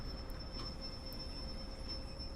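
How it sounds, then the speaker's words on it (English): Squealing brakes on a British Rail Class 205 Thumper diesel multiple unit in a train simulator, a steady high metallic whine held over continuous rumbling rail noise, with no talking. "Listen to that squeaky brakes, I love it."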